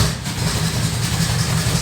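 Bombardier vehicle engine idling steadily, a close, loud, even low rumble with no pauses.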